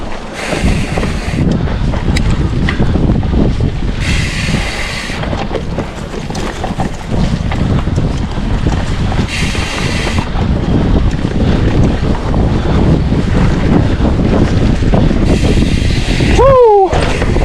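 Strong wind buffets the microphone continuously while riding a mountain bike trail loop in Florida, a loud, steady roar with rumbling gusts throughout.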